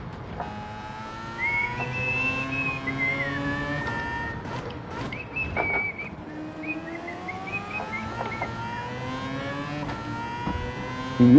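A person whistles a song in wavering melodic phrases over the steady roar and revving of racing cars in the video game Gran Turismo 7 on PS5.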